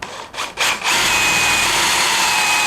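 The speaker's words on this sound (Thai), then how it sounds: "ผมจะลองเจาะโดยใช้น้ำหนักตัวกดลงไปด้วยนะครับ" A DeWalt DCD100 cordless impact drill on speed setting 2 pushes an 8 mm bit into 6 mm steel under body weight. After a couple of brief starts, it settles into a loud, steady, close grinding whine.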